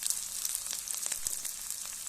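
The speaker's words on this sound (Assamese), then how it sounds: "এতিয়া কেৰাহীত তেলখিনি গৰম হোৱাৰ পাছত মই পিঁয়াজ, জলকীয়া এনেদৰে গোটেইখিনি মই দি ল'লোঁ তেলত।" Sliced onion and green chillies hit hot oil in a kadai for an Assamese banana flower dish, crackling and sizzling steadily with small sharp pops.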